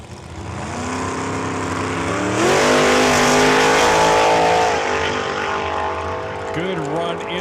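A 1970 Plymouth Duster makes a quarter-mile drag run at Saskatchewan International Raceway: the engine roars loudly, rises steadily in pitch through the gears, then eases off, with an announcer talking over it.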